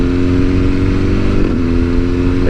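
A 2022 BMW S1000R motorcycle engine revs loud and close, its steady mid-pitched drone holding high with a slight shift in tone partway through.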